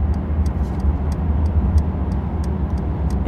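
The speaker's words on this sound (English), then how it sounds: "I just use the indicator once again" A Mercedes-Benz E-Class turn indicator ticks in a steady, even rhythm inside the cabin over a low road and engine hum, with no one speaking.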